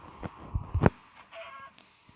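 A chicken in the Minecraft video game gives short, soft clucks, with a brief cluster of louder bird calls near the start, heard alone without talk.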